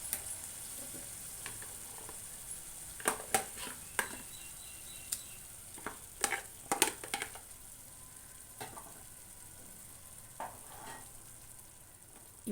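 Tomato puree frying in a pan for an Indian egg masala curry, a steady close sizzle running throughout, broken by a few sharp clicks and scrapes of stirring.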